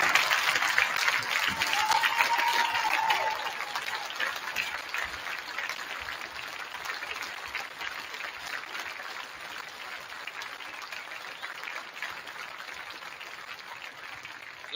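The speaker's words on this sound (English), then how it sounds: "Let's clap it up for these guys." A crowd applauds a state championship football team at a celebration, with steady, fairly soft clapping throughout and a faint murmur of voices underneath.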